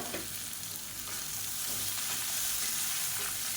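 Bottle gourd pieces sauté in a hot pan for chutney, giving a steady, even sizzle and frying hiss throughout, close and moderately loud, with faint stirring scrapes and no voices.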